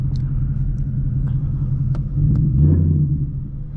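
A 2022 Ford Mustang GT V8 idles with a deep, steady low rumble from inside the car, swelling briefly as the engine is blipped before settling back.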